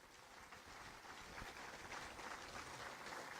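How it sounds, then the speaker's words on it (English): Faint, steady audience applause fills the stretch evenly after a county executive's State of the County address, a soft wash of many hands clapping at some distance with no talk over it. "So please give them a round of applause."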